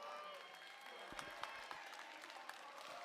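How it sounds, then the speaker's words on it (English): Steady applause from an audience at an FTC Power Play robotics world championship in the Franklin Division, a continuous broadband patter of many hands clapping with a few sharper claps standing out, lasting the whole stretch. "Everybody give a round of applause for Nir."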